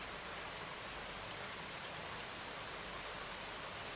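Steady rain falls in a dense, even hiss that stays constant throughout, with no voices or other distinct sounds.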